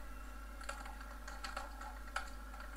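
Rapid clicking of keys on a computer keyboard while ActionScript code is entered, irregular bursts of taps with small pauses, close but quiet, and no voices.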